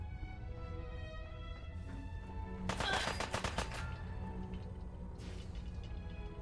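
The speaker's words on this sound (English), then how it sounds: "You're like a Gatling laser." Gatling laser fire in the video game Fallout 4, with two rapid bursts of crackling shots, the first loud and sustained, the second shorter, over a continuous game background.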